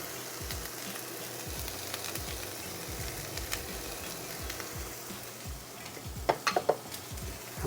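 Celery and carrots sizzle softly in a pan, a low steady frying hiss broken by occasional stirring scrapes and a few clinks of a utensil toward the end.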